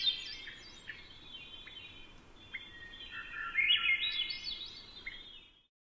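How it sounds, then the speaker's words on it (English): A Swainson's thrush sings a run of flute-like phrases that climb in pitch in a jerky, lurching way, clear and fairly close, fading away at the end over quiet background. "The song of the Swainson's thrush climbs in pitch, and does so in a somewhat jerky, lurching manner."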